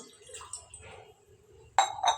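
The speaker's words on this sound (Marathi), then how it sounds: "त्यात आता एक ग्लासभर पाणी घेऊन पाणी घालून घेऊ आपण" Water poured from a glass into a steel plate, a short bright splash and clink near the end, following quieter handling noises.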